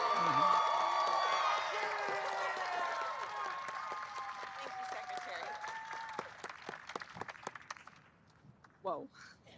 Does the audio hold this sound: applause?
yes